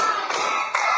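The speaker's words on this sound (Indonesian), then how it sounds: "Biar semangat lagi, coba tepuk lagi." Children clap their hands in a lively classroom game, a dense, fast run of claps filling the whole moment with a brief lull near the middle before the clapping picks up again.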